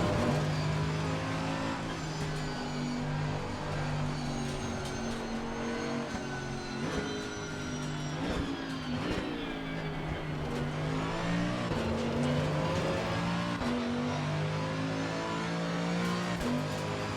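Mercedes-AMG GT3 Evo race car engine in Assetto Corsa Competizione at Snetterton, loud and continuous, revving up and down through gear changes with a steady droning tone throughout.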